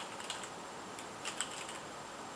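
Quick bursts of keystrokes on a computer keyboard, a few light clicks at a time spread over a couple of seconds, faint and close against a quiet background hiss.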